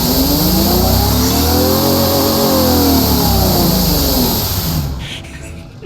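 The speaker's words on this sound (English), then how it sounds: "Engine's so loud. Oh my goodness. That is one heck of an engine." Tuned, boosted car engine of about 1,100 horsepower revving in the Automation car-building game, a loud sustained roar that climbs and falls in pitch, then cuts off abruptly near the end.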